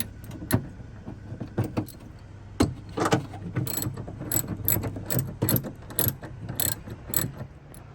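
A ratchet with a deep socket working a spoiler bolt on a 2018 Mustang GT, rapid close clicking pawl strokes in repeated bursts with brief pauses between, crisp and fairly loud.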